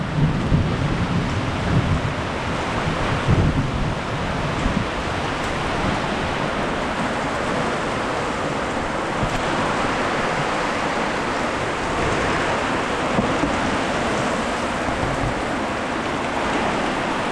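Steady heavy rain pours down while low thunder rumbles and rolls continuously, with no voices, in the Philippines.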